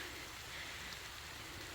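Steady rain pours over a country dacha garden, a dense, even hiss of drops on surfaces that stays constant throughout with no voices.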